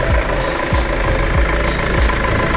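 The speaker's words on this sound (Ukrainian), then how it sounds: "Мотор рівненько працює, він сухенький, чистенький" A nearby Mercedes-Benz Viano van engine idles with a low, even rumble and regular soft pulses, steady and fairly loud with no voices.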